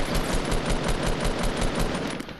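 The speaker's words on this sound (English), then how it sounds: "Should I shoot him from here?" Rapid automatic gunfire in Fortnite, a loud, steady burst of evenly spaced shots close up that runs for about two seconds before easing off, with no voices.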